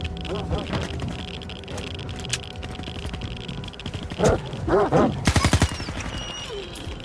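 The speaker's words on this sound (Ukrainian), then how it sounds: "Якісь тут песики мене напали." Mutant dogs attacking in the video game STALKER 2, with a cluster of snarling, yelping bursts and a rapid volley of gunfire in the middle of a busy, noisy game soundscape.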